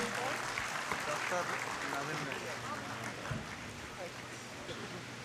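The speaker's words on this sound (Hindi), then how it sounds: "एक बार जोरदार तालियां हो जाए आमदार साहब के लिए" Dense, continuous applause from an audience welcoming an MLA at a community federation event, a broad steady wash of clapping lasting several seconds at moderate level.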